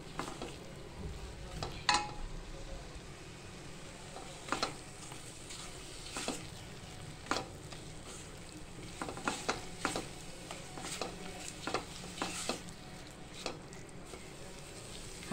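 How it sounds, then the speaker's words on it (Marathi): Masala for Malvani bangda fish curry is stirred and sautéed in a pan, with a soft steady sizzle and scattered sharp scrapes and clinks of the spoon against the metal. "हा बघा, हा मसाला आपण छानपैकी परतून घेतोय."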